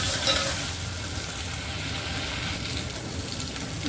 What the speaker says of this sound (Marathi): डाळ टाकल्यानंतर पण थोडं परतवं व्यवस्थित